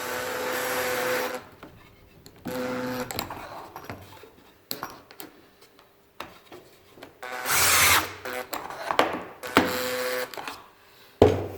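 A power drill with a Torx 20 bit drives pocket-hole screws into wood on a Kreg Jig Mini, in several short, close, whirring bursts with quiet gaps between them.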